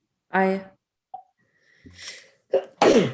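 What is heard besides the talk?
sneeze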